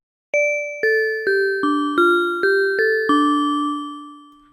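Chromaphone 2 percussive synthesizer playing a bright bell-like tone, seven struck notes in a stepping sequence, each a clean ringing attack with shimmering overtones that sustain and decay slowly after the last.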